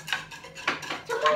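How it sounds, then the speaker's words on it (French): A whisk clinks quickly against a saucepan as an agar-agar flan mixture is beaten, three short bursts of metallic scraping and tapping, close and fairly quiet, with no talk. "Tu le mets et tu fouettes vite après."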